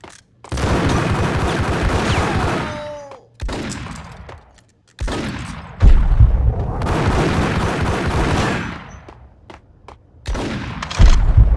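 Loud bursts of gunfire crackle in the video game Max Payne, with several long volleys of rapid shots broken by short silences.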